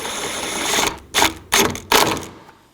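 A ratchet snugs a 7mm bolt on the A/C condenser of a 2018-2024 Chevrolet Equinox, giving three short, sharp bursts of rapid clicking after a steadier mechanical whir, close and fairly loud.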